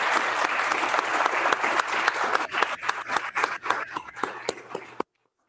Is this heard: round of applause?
yes